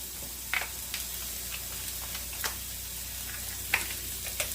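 Oregano is stirred into a creamy chicken sauce that sizzles steadily in a pan. A constant hiss runs throughout, with occasional soft scrapes and taps of the spoon, and no talk.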